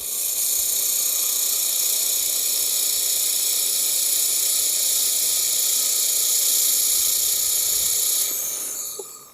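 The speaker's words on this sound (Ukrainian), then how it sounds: "Так що будемо варити цей шовчик" A 3-in-1 laser welder runs along a 0.8 mm stainless steel seam without filler wire, making a loud, continuous hiss for about eight seconds before it cuts off abruptly.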